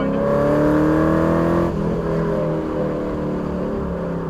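Car engine on an open race track, a loud sustained high drone that rises in pitch, then drops abruptly as the throttle eases, settling into a lower steady hum.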